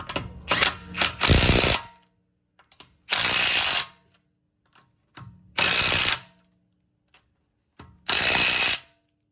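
An impact wrench fires four loud, close bursts on the wheel lug nuts of a 2023 Tesla Model Y, each roughly a second long, separated by quiet gaps.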